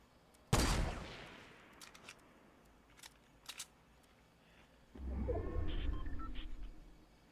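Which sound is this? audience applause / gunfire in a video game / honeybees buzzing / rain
gunfire in a video game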